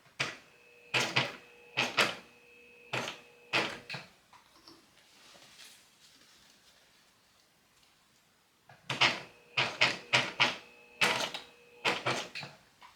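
A sewing machine basting fabric, running in short bursts of rapid mechanical stitching with a steady whirring tone, pausing for several seconds in the middle before resuming, close and moderately loud, with no voices.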